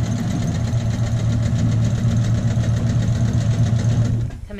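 Sewing machine stitching a pocket onto a child's shirt, a steady close motor hum and rapid needle chatter running continuously, then stopping abruptly at the end.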